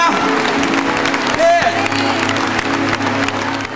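A church congregation at a Baptist service claps and cheers in a loud, reverberant hall, with a brief tone and musical backing under the applause.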